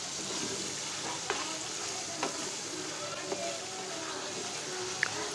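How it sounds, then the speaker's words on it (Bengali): Mutton cooks with spices in a pan, giving a steady, even sizzle close by, with a few soft scraping knocks from stirring spaced through it. "মশলার সাথে মাংসটা ভালো করে কষিয়ে নিচ্ছি।"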